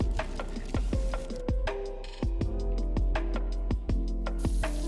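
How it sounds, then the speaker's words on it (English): Tri-tip searing in butter with rosemary in a hot pan, a steady loud sizzle broken by repeated sharp clicks and scrapes of handling. "I'm going to sear it in butter, and I add some rosemary in there."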